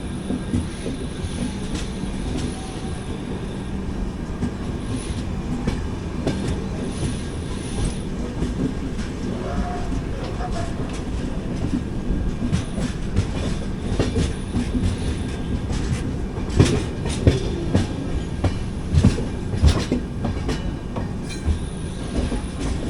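Jan Shatabdi Express 12077, an AC chair car train from Chennai Central to Vijayawada, runs on rails with steady clickety-clack of wheels, joint thumps and occasional squeals, heard from inside the carriage as a continuous rumble.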